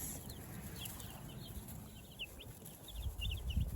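Freedom Ranger meat chickens cluck softly in a pen, scattered short calls running through the clip over a steady low rumble of background noise, with a few louder bumps near the end.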